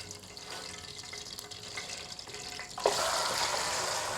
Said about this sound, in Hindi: सबसे पहले ऑयल गरम करेंगे, साथ उसमें हम थोड़ा सा नमक ऐड करेंगे और नमक के साथ ही हम इसमें गोश्त डाल देंगे।